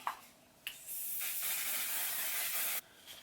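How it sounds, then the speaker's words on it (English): A One Size setting spray hisses onto a face in two or three short bursts, the longest lasting about two seconds, close to the microphone in a quiet room. "Now to finish off, I usually go with my One Size spray. I'm just going to put a little bit of that on."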